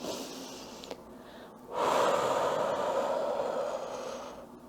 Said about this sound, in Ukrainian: ми робимо вдих на три рахунки, видих на вісім